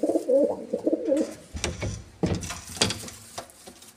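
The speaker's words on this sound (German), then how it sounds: "Gucken wir mal jetzt zu den Tauben." Pigeons cooing inside their loft, a few soft rolling coos up close, followed by fluttering and scraping movement sounds.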